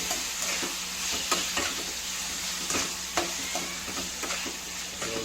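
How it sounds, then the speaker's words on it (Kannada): Shredded cabbage fries in a pan for a local-style cabbage palya, a steady close sizzle broken by occasional sharp scrapes and taps of a stirring spoon, with no talk. "ಸೊ ಇದನ್ನು ಫ್ರೈ ಮಾಡ್ಕೊತಾ ಇದ್ದೀನಿ ಸ್ನೇಹಿತರೆ."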